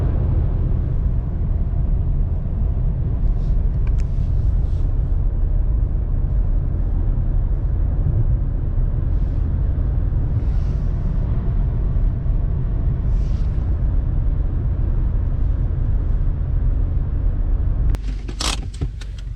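A Volkswagen Bora on the move, its steady road and engine rumble holding evenly throughout, with a few faint clicks over the drone and a brief rattle near the end.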